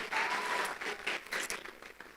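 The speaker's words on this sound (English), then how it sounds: "Please give him a round of applause again." An audience claps in a burst of applause, a lively cluster of hand claps that swells early and tapers off over about two seconds, moderately quiet and with no speech.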